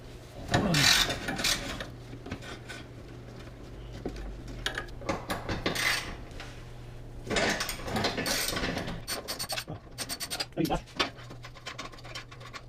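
A ratchet wrench works a 15mm bolt behind the muffler near the transmission of a Porsche Boxster 986, clicking in repeated close bursts while someone talks.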